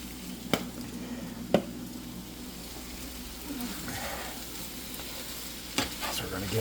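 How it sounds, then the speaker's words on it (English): Chickpea egg scramble stirred in a sizzling pan: steady frying hiss with a few sharp utensil clacks and scraping strokes, close and clear, no speech. "So we're going to give this a mix"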